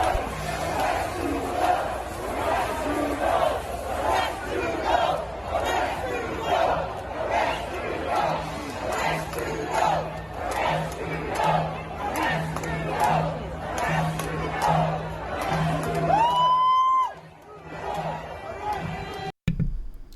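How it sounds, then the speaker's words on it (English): Large, rambunctious crowd at a Canada Day rally, roaring and chanting in a loud, sustained cheer with rhythmic shouts that carry on for many seconds before fading near the end. "That's a rambunctious crowd cheering, a really sustained cheer."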